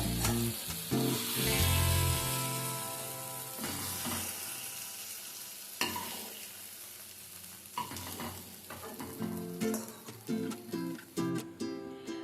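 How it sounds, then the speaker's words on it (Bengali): Onions and tomatoes fry lightly in a pan, giving a continuous loud sizzle with intermittent stirring clatter that grows busier toward the end. "পেঁয়াজ আর টমেটোটাকে ঠিক এইভাবে ভেজে নিতে হবে, একদম হালকা করে।"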